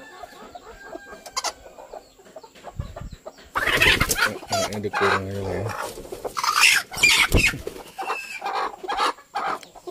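Bangkok chickens cluck loudly close by, with a rooster's crow and other farmyard calls, while a person speaks briefly.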